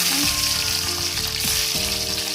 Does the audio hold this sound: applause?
no